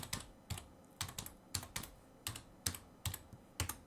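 An email address is typed on a computer keyboard in quiet, sharp clusters of keystrokes with short pauses between bursts, close and alone.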